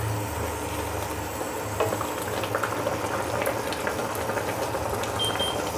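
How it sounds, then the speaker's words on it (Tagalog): Sinigang with kangkong simmers in a pot with a steady bubbling boil, faint scraping and stirring sounds coming through now and then, close and moderately loud. "Haluin lang natin."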